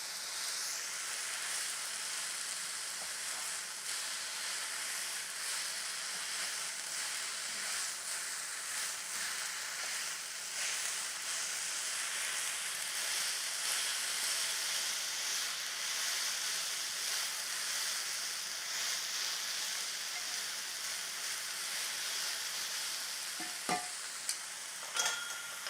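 Squash sizzles steadily in a very hot pan, a soft continuous frying hiss that runs throughout, with a few small clinks near the end.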